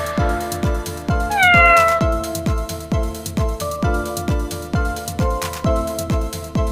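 A cat meows once over a steady, rhythmic musical backing with regular percussive beats, the meow rising briefly above the music.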